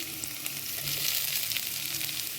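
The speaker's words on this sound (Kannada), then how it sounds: "ಒಂದು ಎರಡು ಸೆಕೆಂಡ್ ಹುರಿದಾದಮೇಲೆ ಇದಕ್ಕೆ ಕ್ಯಾಪ್ಸಿಕಮ್ ಹಾಕ್ತಾಯಿದ್ದೀನಿ" Thinly sliced capsicum stir-frying in a hot pan for hotel-style noodles, a constant bright sizzle with faint crackles, close and steady, and no speech.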